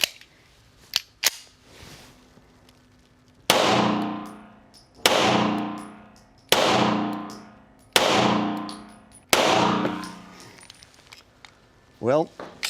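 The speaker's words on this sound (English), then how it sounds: "we're going to shoot the Tisas Regent. We're going to shoot it, again, same ammunition, at the center white part of the target." Five loud Tisas Regent pistol shots fired at a paper target, evenly spaced about one and a half seconds apart, each a sharp crack with a decaying tail, preceded by a few metallic handling clicks.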